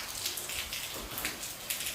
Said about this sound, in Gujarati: બહાર વરસાદ ધબધબાવે છે